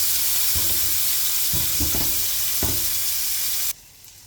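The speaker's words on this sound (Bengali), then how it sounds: "চিংড়ি মাছ ভাজিটা হয়ে গেছে, লাল লাল করে ভেজে নিচ্ছি।" Prawns frying in hot oil give a loud, dense, continuous sizzle with a few scraping stirs, and the sound cuts off abruptly near the end.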